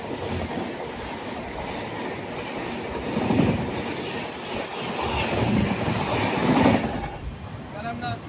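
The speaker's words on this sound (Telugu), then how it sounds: "Shalimar Trivandrum central super fast express cross over" A Shalimar–Trivandrum Central superfast express passes on the adjacent track, a steady loud rumble and rush of wheels and wind with swelling peaks, heard close from inside a moving train on the Vivek Express route near Katpadi Junction.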